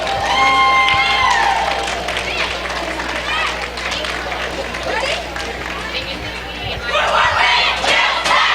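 A roller derby tournament crowd cheers, whoops and applauds for the winning team, with the noise swelling again near the end, while voices shout and chatter throughout.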